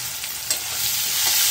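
Cumin paste, chopped tomato and torn green chillies stir-frying in a pan over a medium flame, giving a steady close sizzle with scraping stirs, no talk.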